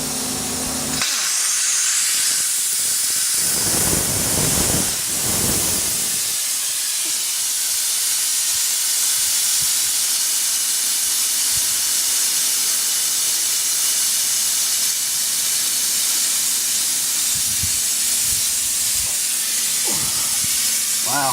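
A loud, continuous hiss of compressed air rushes out close by from an air valve on a bus undercarriage, preceded by brief clanking and handling noises at the start.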